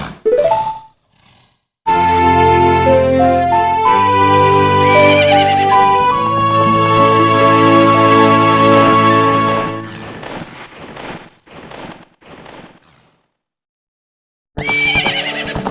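A horse in The Legend of Zelda: Ocarina of Time gives a long, loud whinny with a rising and falling pitch, followed by quieter snorts and a second whinny at the end.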